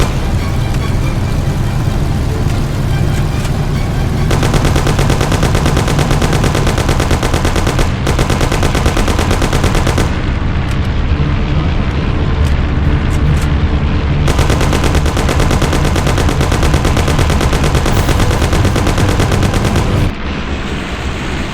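Rapid gunfire from the Mafia: The City of Lost Heaven video game, loud and continuous bursts of automatic shots layered over a car engine, with brief pauses between long volleys.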